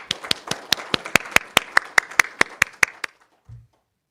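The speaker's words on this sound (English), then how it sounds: "So please give yourselves a round of applause." A brief burst of crisp, evenly spaced claps, roughly fifteen sharp hits at a steady quick pulse, fairly close and loud, stopping abruptly, followed by a faint low thump and then silence.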